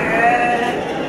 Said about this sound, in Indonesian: Di sini ada dua domba yang cukup super nih.